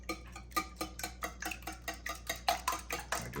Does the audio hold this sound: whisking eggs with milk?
yes